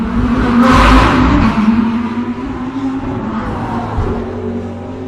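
Race car at the close of a race, its engine revving hard and loud up close, then the whine easing as it pulls away, leaving a lower steady drone.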